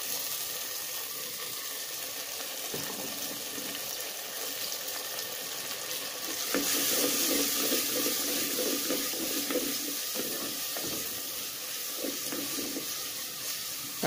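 Tomatoes sauté in peanut oil for drumstick kuzhambu, giving a steady close sizzle and hiss. The sizzle gets louder partway through with some stirring clatter.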